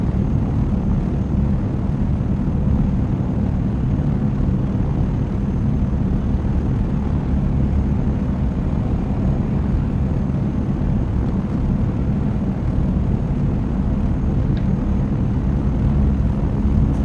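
A steady, low rumbling drone of an ornithopter's engine in a Dune flight-simulator video game continues without a break, loud and unchanging throughout.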